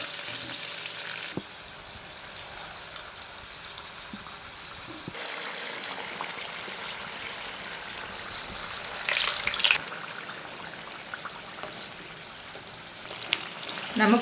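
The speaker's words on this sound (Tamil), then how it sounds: "கையில் நம்ம தண்ணியை தொட்டுட்டு நம்ம சின்ன சின்ன உருண்டையாக நம்ம எடுத்து எண்ணெயில் போட்டுக்கலாம்" Small balls of honey candy dough, thaen mittai, drop into hot oil and fry with a steady, close sizzle. Louder bursts of bubbling and a few clinks of utensils come through now and then.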